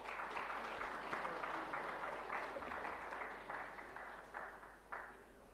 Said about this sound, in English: Let us also give a round of applause for him.